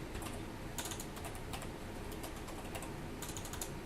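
Rapid, continuous clicking of typing on a computer keyboard, close and fairly quiet, with irregular bursts of keystrokes and no talking.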